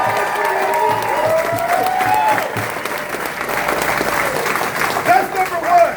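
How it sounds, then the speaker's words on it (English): A crowd at an outdoor Sunday dinner fundraiser for Heath, a survivor, breaks into steady applause with some cheering, a dense continuous roar that swells toward the end while voices carry over it. "let's give a big round of applause for Heath."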